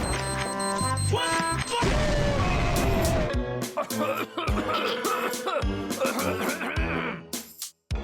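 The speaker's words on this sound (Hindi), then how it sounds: "अब धमाका होने वाला है" A loud booming blast erupts amid dramatic music and voices, followed by rumbling crashes and sharp hits.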